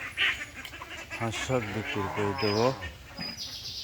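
Ducks on a farm quacking in a short burst of several nasal calls through the middle, moderately close, with some quieter background noise around them.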